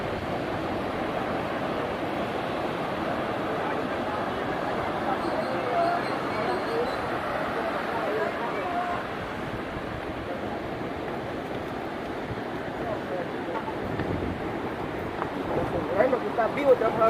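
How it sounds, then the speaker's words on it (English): Ocean waves at El Tunco beach in El Salvador wash and splash against nearby rocks in a steady, close roar with wind noise, swelling slightly louder near the end. "There's some rocks over here, the water splashing up on top of it."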